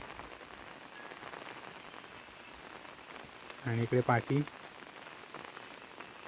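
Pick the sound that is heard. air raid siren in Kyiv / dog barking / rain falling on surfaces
rain falling on surfaces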